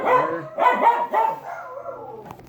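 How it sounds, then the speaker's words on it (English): A dog barks indoors nearby, three loud barks in quick succession followed by softer whining, heard alone without talk. "I'm sure you heard my dog barking."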